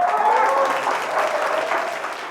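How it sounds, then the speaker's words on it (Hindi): A studio audience on a TV crime-drama set claps steadily in close, dense applause that tapers off slightly toward the end. "जोरदार तालियों से स्वागत कीजिए मिस गीता का"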